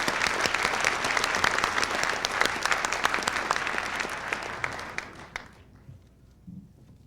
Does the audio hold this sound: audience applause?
yes